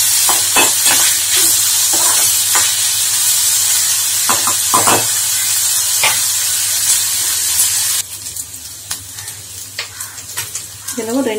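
Green chillies and curry leaves sautéing in a pan for a wedding-style carrot, beans and cabbage poriyal, with steady close sizzling and frying hiss, a few stirring scrapes, and a quieter stretch near the end.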